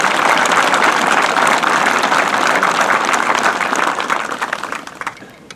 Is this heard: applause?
yes